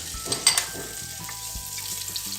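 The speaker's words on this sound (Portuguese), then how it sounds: "Vou fritar aqui o bacon" Chopped bacon frying in a couple of spoons of oil for a cornmeal and kale soup, a steady close sizzle with a few soft utensil clicks and scrapes, no voices.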